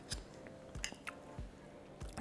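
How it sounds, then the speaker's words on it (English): Someone chews a crunchy pecan streusel topping on sweet potato casserole, producing a few soft, close crunches and squishy bites spaced irregularly in quiet surroundings. "My favorite part, the crunch from the pecans."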